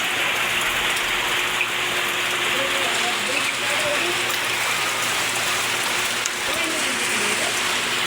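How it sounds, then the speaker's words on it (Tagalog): Heavy rain hisses steadily and loudly throughout a night crab hunt in the Philippines, a dense unbroken wash with faint voices and small knocks buried beneath it. "Ang lakas ng ulan."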